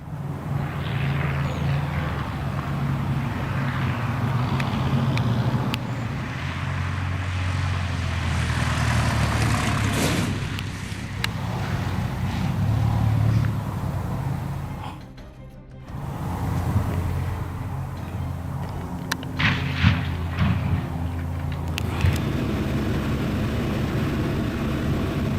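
Light homebuilt Whitman Tailwind W10 aircraft on a test flight in New Zealand before a crash, its engine droning steadily at a distance under wind and outdoor noise, with a brief dropout midway.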